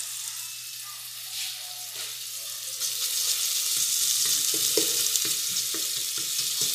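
Garlic frying in a pan in a home kitchen, a steady close sizzle that grows louder partway through, with faint stirring and scraping and no speech.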